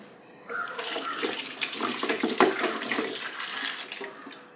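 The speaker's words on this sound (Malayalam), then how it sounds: "വെള്ളം എടുത്ത് ഇതൊന്ന് കഴുകിക്കളയാം" Running water pours and splashes steadily, like rinsing under a tap, as cooking ingredients are washed, close by and continuous after a brief quiet start.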